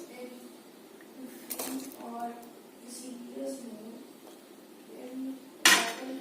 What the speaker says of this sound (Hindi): अब मैं इसमें ऐड करूंगी पोटैटोस